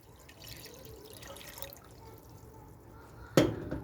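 Water pours into a pot while making dried fig jam syrup with sugar, a low trickle first, then a sudden loud splashing gush near the end.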